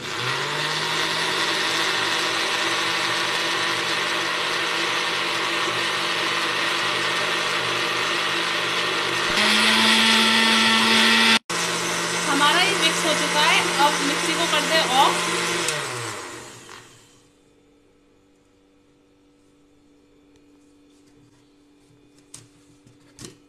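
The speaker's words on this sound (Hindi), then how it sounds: "अब इसे हम मिक्सी से मिक्स कर लेंगे।" A kitchen mixer grinder whirs steadily as it blends breakfast batter seasoned with salt and turmeric, shifting pitch partway through, then winds down to quiet with faint background sounds.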